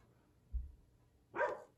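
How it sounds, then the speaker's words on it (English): A dog gives one short bark in the background of a quiet room during a geometry lesson, after a dull thump. "I guarantee a dog's gonna bark"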